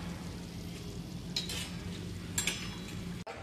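Peanuts frying in a pan of hot oil for poha chivda, a steady low sizzle with a couple of brief brighter bursts as they are stirred, ending in a short clatter.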